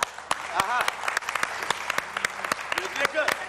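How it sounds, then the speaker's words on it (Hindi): Studio audience of a Pakistani morning TV show applauding to welcome the hosts, sharp irregular claps close by with voices talking over them. "जोरदार तालियों में"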